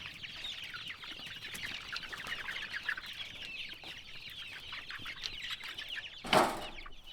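Flock of 52 chicks and nine grown chickens out on pasture, with continuous busy peeping and clucking throughout and a brief louder flurry, like wing flapping or a squawk, near the end.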